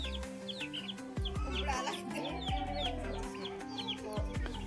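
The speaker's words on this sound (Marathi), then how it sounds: "कोंबडी कशी खात मंचुरियनला टोचू टोचू खाऊ राहिली" Desi country chickens on a Nagpur poultry farm cluck steadily while pecking at a shared scrap of food, several birds close by with overlapping clucks and calls over low background noise.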